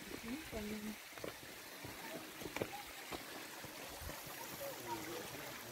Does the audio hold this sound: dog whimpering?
no